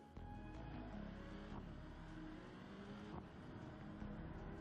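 A car in a driving video game accelerating forward, a steady engine tone that holds loud and continuous throughout with rising pitch lines and no talk.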